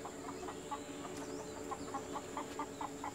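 A chicken clucks in a string of short, regular, fairly faint calls over a steady background hum, with no talking.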